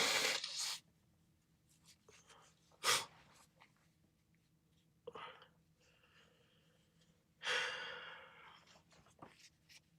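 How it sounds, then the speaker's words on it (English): A person blows their nose close to the mic in several bursts: a few sharp, loud nasal honks and rustling blows separated by quiet pauses, with faint tissue handling between them. "I'm gonna blow my nose."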